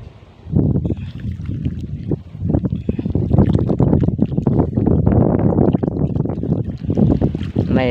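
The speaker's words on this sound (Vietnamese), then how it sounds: "Này gió mạnh lắm các bạn." Strong wind buffets a microphone outdoors in a garden being planted with lotus, a steady loud rumbling roar lasting several seconds, with a voice speaking faintly beneath.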